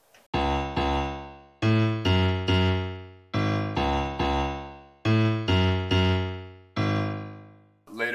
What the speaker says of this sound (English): the most recognizable part in the intro is the low piano.